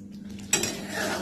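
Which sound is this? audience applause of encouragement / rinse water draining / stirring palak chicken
stirring palak chicken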